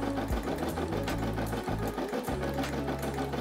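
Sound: Brother SE600 embroidery machine stitching a design

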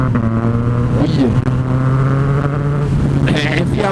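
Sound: motorcycle engine revving in the cold

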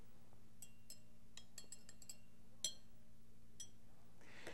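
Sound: stirring dye into water in a glass beaker

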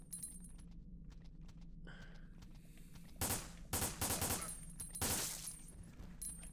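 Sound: gunshots in video game Resident Evil Dead Aim

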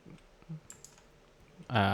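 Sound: computer mouse clicking while dragging

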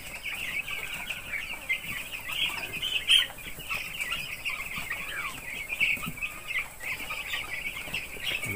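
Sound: 7-day-old chicks clucking in coop

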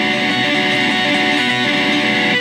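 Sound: electric guitar lick played without finger rolling, noisy

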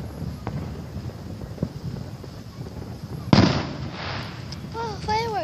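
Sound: fireworks on the street

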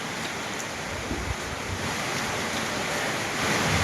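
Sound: strong storm wind with rain

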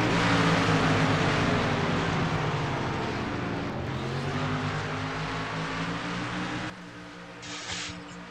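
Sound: race cars on track in a racing video game

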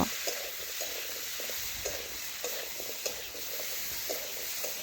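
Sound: stir-frying vegetables with spices in a pan

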